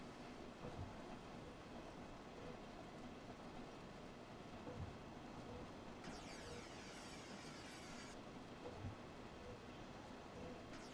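A simulated regional train rolling into Dresden main station in Train Sim World 3 during heavy rain, a continuous low rumble with occasional rail clicks and a steady wash of rain on the cab.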